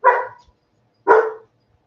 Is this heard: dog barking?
yes